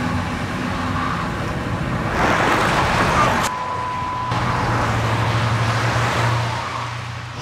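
A mid-engine car drives close by, its engine a steady loud drone with a brief surge and a sharp transient midway, then settling into a lower rumble, heard alone without talk.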